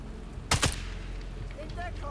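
Gunshots in the video game Sniper Elite 5, a sharp pair of rapid shots close together, loud against a steady game background, followed by faint tonal effects.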